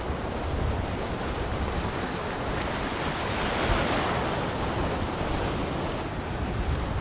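Ocean waves breaking steadily on a beach in Gujarat, a continuous loud roar of surf mixed with wind buffeting the microphone, with no voices.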